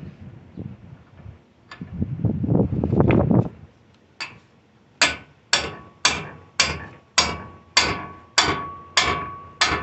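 A separator tool is hammered to free a lower control arm on a 2007 Nissan Sentra 2.0. After some rustling handling noise comes a steady run of about nine sharp metallic blows, loud, close and evenly spaced.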